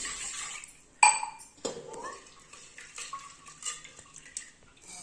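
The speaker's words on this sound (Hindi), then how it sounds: "हम दाल ले लेते हैं पहले कुकर में, और दाल को हम धो लेंगे।" Lentils are rinsed in a metal pressure cooker for a Chhattisgarh home-style vegetable dish, with a sharp clank of metal and then sloshing water, grains shifting and light scraping against the pot, close up.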